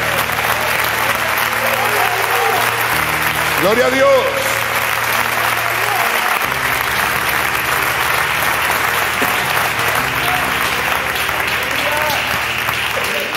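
A church congregation applauds loudly and continuously while sustained keyboard tones play underneath and a voice calls out briefly over the clapping.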